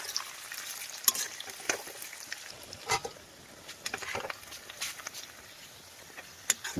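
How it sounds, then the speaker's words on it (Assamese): Onions added to browned meat fry in a pan, giving a steady close sizzle broken by crackles and the scrape of stirring, with no speech. "এতিয়া পিঁয়াজটো দি অলপ পিঁয়াজটো গলাই দিম।"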